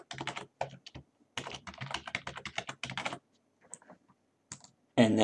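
Typing a password on a computer keyboard, a quick run of close, crisp key clicks packed into a short burst near the end, after a stretch of dense, regular keystrokes.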